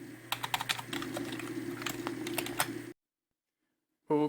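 Rapid, uneven keystrokes clatter on a computer keyboard for about three seconds, close and clear, then stop dead into silence before a short unrelated burst.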